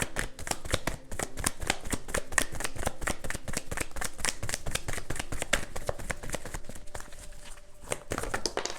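Tarot cards being shuffled and drawn, heard as rapid, dense riffling flicks and card slaps close up, continuous and brisk with no talking.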